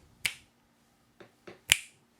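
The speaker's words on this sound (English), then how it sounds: "maybe if I snap my fingers" Crisp finger snaps, four in about two seconds: a sharp first snap, two softer ones close together, then a loud final snap, all close by in a quiet room.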